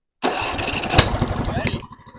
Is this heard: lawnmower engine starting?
yes